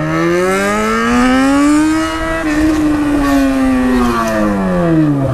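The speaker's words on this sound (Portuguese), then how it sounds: "Ô, moto barulhentinhas." A loud Yamaha XJ6 motorcycle engine roars close by, its pitch climbing steadily as it revs, then dipping briefly and rising again in a sustained, droning growl.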